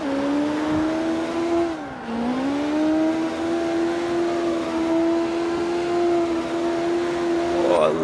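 Rotary-engined car in the racing game CarX Street, its engine droning steadily at high revs with a brief dip in pitch as it shifts or lifts, then climbing back and holding a long sustained whine, loud and close throughout.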